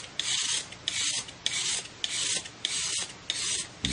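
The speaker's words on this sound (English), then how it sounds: "Just scraping some charcoal off a brand new clean block." Charcoal is scraped off a new clean charcoal block in regular rasping strokes, about six or seven close, even scrapes with brief gaps between them.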